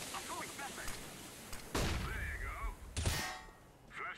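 Counter-Strike: Global Offensive gunfire in a competitive match, with sharp bursts of shots standing out over game ambience and a ringing metallic ping, a couple of loud cracks landing close together late on.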